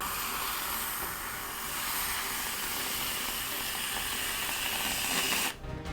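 Whipped cream sprayed from a can onto a milkshake, a steady close hissing spray lasting several seconds before cutting off abruptly.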